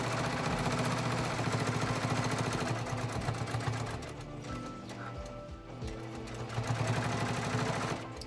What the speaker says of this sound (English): So I'm just going to meet back up where I originally started sewing and backstitch again, cut my threads